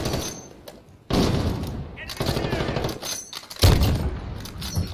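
Sniper rifle shots from the shooter game Modern Warfare ring out as a few sharp cracks, spaced roughly a second apart, mixed in with ongoing game noise while a person talks over the action.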